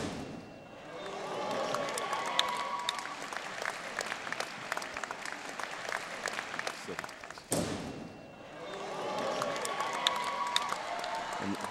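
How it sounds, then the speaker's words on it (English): A New York City crowd at a fencing match applauds and cheers in a dense, sustained wash of clapping, briefly dipping midway before swelling again, with commentary talk over it. "It's great to hear the crowd into it."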